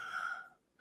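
A single deep breath drawn in during a counted self-hypnosis breathing exercise, heard close and airy for about half a second before it fades, with a faint start of another breath at the end.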